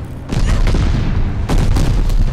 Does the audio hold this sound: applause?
no